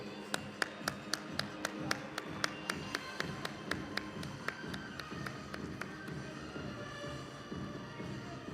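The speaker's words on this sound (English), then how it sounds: "A big round of applause, please." A seminar audience in Abu Dhabi gives a round of applause. Several loud, regular claps ring out in a steady rhythm, then fade into a softer, fading patter of scattered clapping in a hall.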